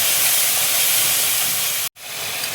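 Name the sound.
spices in a hot pan sizzling after water is added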